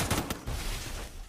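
Gunfire in a shooter video game: a few quick, muffled shots at the start, then a fading rumble at moderate volume.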